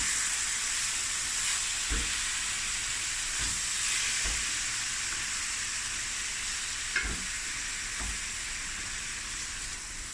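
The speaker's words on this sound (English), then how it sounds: "give this a stir so the meat breaks up" Beef mince sizzles steadily in a frying pan, a continuous bright hiss with a handful of soft scraping knocks as it is stirred and broken up, close and alone without any voices.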